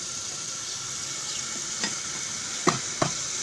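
Onion fries in oil in a pan until light golden, a steady soft sizzle with a few faint scrapes and taps of stirring near the end.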